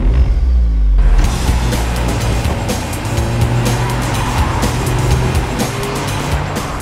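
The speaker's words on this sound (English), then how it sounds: "Wow, this Audi S1 really moves." An Audi S1 Sportback with a 2-litre TFSI four-cylinder engine accelerating hard: a loud, sustained engine roar that builds after a brief start, with tyre and road noise.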